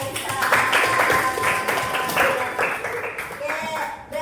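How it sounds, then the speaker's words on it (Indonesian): A class of students applauds a classmate in a steady, lively patter of many hands clapping that lasts throughout, close and fairly loud with some voices mixed in. "Tepuk tangan buat Aisyah"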